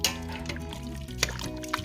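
Shredded chicken from four breasts is poured with its juice into a pot, giving a soft wet slosh and a few light splatters in a quiet kitchen.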